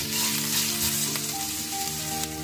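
Garlic, asafoetida and cumin sizzle in hot mustard oil, a dense steady frying hiss heard up close and alone, with no talk.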